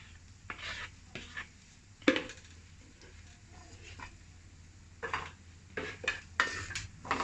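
A spoon scrapes and clinks against a pan while water chestnut flour is roasted in desi ghee, giving scattered scraping and tapping strokes in a quiet kitchen, with some soft speech in the background.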